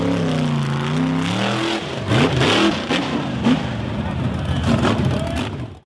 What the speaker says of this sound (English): The red-framed, white-bodied off-road vehicle was climbing a rough, rocky slope